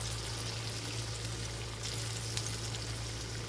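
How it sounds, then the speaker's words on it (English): Falafels sizzling steadily in hot oil, a soft, even crackle with a low hum beneath, fairly quiet and uninterrupted, no talking. "now we're going to take our falafels and we're just going to put this in oil"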